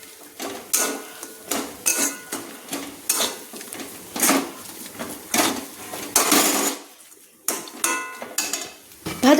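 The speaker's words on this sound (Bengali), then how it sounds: "দিয়ে একটু ভালো করে মিক্সড করে নিলাম" Banana flower filling being mixed with roasted spice in a pan, a rhythmic series of loud close metal scrapes and knocks of a spatula against the pan, about one every second, with no speech.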